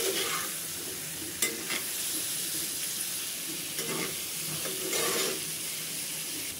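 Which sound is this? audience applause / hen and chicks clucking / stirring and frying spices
stirring and frying spices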